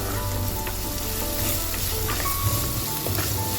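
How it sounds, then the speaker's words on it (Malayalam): Onion sizzling in hot oil for a tapioca masala, a dense continuous frying hiss close by with a few light clinks of a utensil, no talking. "ഇനി നമുക്ക് സവാള ഇട്ട് കൊടുക്കാം. ഇത് നന്നായിട്ടൊന്ന് മൂത്ത് വരട്ടെ."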